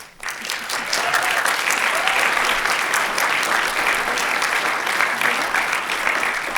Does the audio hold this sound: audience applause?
yes